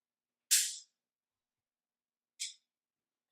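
Two sharp, dry clicks from a Mantis X training pistol during dry fire practice, about two seconds apart, each crisp and brief with silence between, plus a faint tap at the very end; no talking.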